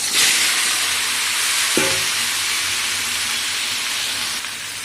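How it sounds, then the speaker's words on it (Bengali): Pointed gourd and potato frying in leftover fish oil with salt and turmeric: a loud, continuous sizzle and hiss that holds steady, with a brief clank partway through. "মাছের তেলেতেই পটল আলুটা ভেজে নিচ্ছি নুন হলুদ দিয়ে"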